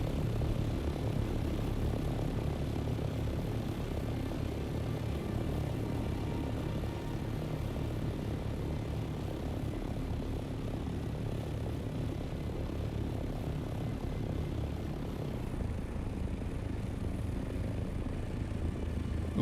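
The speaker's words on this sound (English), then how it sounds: "It looks like DC's copter." Steady droning engine of a copter flying in the video game Dune: Awakening, a continuous low rumble with propeller-like texture that holds evenly throughout, close and unbroken, with no talk.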